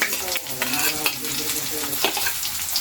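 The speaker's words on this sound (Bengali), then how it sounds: "শুকনো লঙ্কাটা আগেই দিয়ে দিলাম তেলের ওপরে" Dry red chillies fry in hot oil in a pan for a leafy greens dish, giving a steady close sizzle with stirring scrapes mixed in.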